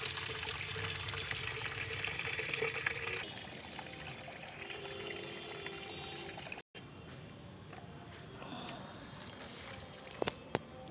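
Water pours steadily onto dried-out garden plants, a continuous splashing trickle that softens partway through and is followed by a few sharp knocks near the end.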